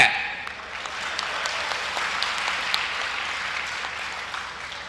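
An audience at a Tamil comedy speech applauds, a moderate, even wash of many hands clapping for several seconds, somewhat distant and without talk over it.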